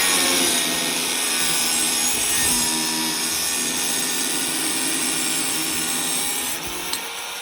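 Cutting square steel tubing to fit a 1983 Chevrolet C30 6x4 crew cab frame extension, a steady, close, continuous rasping saw stroke that runs unbroken for several seconds with no talk, ending with a brief clank.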